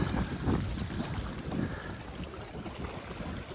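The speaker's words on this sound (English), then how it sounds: "This wind is pretty rough." Gusty wind buffeting the microphone on the shore of Caples Lake, producing low rumbling swells that rise and fall continuously, with a faint open-water wash underneath.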